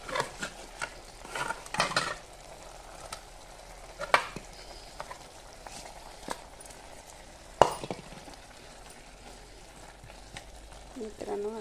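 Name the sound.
stirring mutton into cooking biryani in a pot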